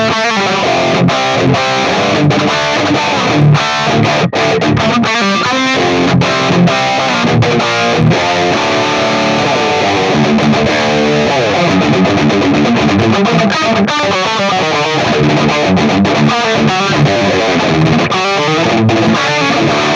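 A Black Water Guitars custom six-string electric guitar tuned to drop D plays through heavy distortion, with dense, continuous riffing and chugging palm-muted notes that run steadily and loudly for the whole stretch.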